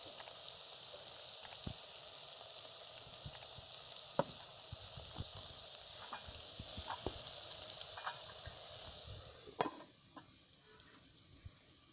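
Onion fries in a pan over a clay stove, a faint, even sizzling hiss with scattered small pops and crackles, heard close and without voices.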